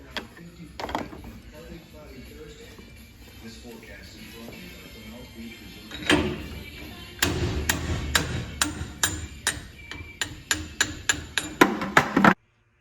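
A hammer drives the kingpin out of a 1955 Chevy truck spindle, sharp metallic strikes falling in a steady, accelerating series, preceded by quieter mechanical handling and some nearby talk.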